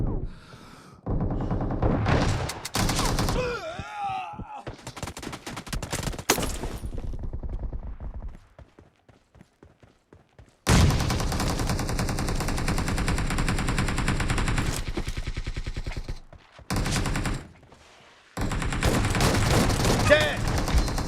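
Shotgun fire in an arena shooter video game comes in long, loud, dense bursts of repeated blasts, broken by short quiet pauses and resuming again and again.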